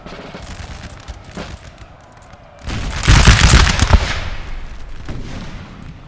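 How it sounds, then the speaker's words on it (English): Musket volleys in street fighting during the 1809 Siege of Vienna in the game Napoleon Total War, a quieter stretch of distant shots giving way to a loud, dense crackle of massed gunfire that slowly thins out. "Third Provisional Infantry here is actually gunning down this poor unit of Hungarians"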